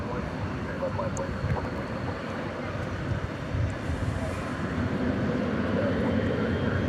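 A Boeing 737-800 airliner comes in to land at DFW Airport on a breezy night, its steady engine roar rumbling at moderate distance under crowd chatter from a busy plane-spotting parking lot.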